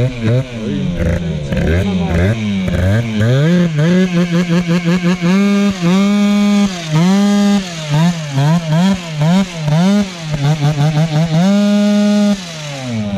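A Peugeot 103 moped fitted with a Malossi 70 kit revs hard and repeatedly while heating its tyre, the engine note climbing and dropping in rapid bursts, with people talking over the noise.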